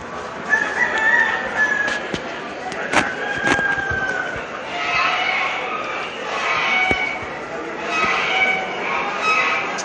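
Poultry pens at the Florida State Fair, with turkeys and other fowl, fill the air with repeated crowing, clucking and gobbling calls over a busy, noisy crowd background.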